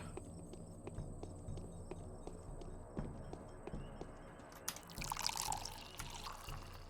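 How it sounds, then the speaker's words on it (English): Water pouring while bottles are filled in the Pathologic video game, faint at first over steady clicking footsteps, then swelling into a louder gush of liquid near the end. "I just filled my bottles with water"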